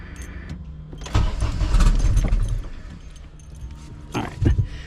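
A freshly fuel-system-upgraded drag car engine with a KRX throttle body and no idle control valve idles very low just after its first start, a rough uneven rumble with a few louder surges and clanks.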